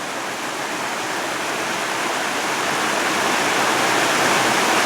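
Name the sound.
waterfall rushing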